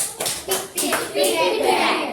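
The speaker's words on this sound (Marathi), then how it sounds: "टाळ्या." A class of children claps together in a short, scattered burst of hand claps, close and moderately loud, with young voices mixed in.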